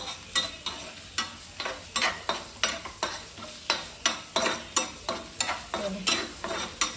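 Chutney ingredients fry in hot oil while a spoon stirs them in regular scrapes, roughly two or three strokes a second, each over a steady close sizzle, with no voices.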